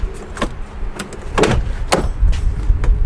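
A second-generation Dodge truck's rear-hinged door clunks and creaks open with a few sharp knocks and latch clicks, close by, with gusting wind in the background.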